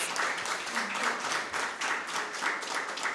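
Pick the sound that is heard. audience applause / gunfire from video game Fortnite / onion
audience applause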